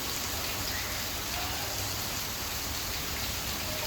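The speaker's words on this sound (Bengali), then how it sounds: "ঘূর্ণিঝড় রিমার্কের তাণ্ডব সারাদিন বৃষ্টি হচ্ছে" Heavy rain from Cyclone Remal pours down in Manikganj, Bangladesh, a dense, even roar of drops that goes on without a break.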